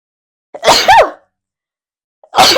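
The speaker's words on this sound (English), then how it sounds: "Goodness, 3 sneezes." Two sharp, loud sneezes close up, the first a drawn-out burst, the second following after a short pause.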